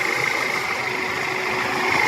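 A warmed-up Chevrolet Captiva 2.0 liter turbo diesel, a seven-seat automatic, idling steadily nearby with a continuous even engine hum and no talk.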